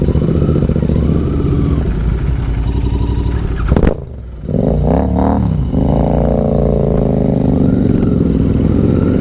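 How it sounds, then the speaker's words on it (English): Royal Enfield Interceptor and Continental GT motorcycle exhausts revving loudly and close, a steady harmonic roar with a brief drop near the middle before the engines pick back up. "That's loud, man. I just got hit in the face by the pressure coming from those exhausts."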